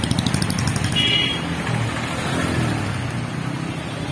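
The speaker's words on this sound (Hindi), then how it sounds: "यहाँ पे ट्रैफिक इस क्रॉसिंग की वजह से लगी रहती है।" Dense road traffic at a busy crossing in Gosainganj, with cars and motorcycles rumbling continuously nearby and a short horn toot partway through, a steady loud wash of engine noise throughout.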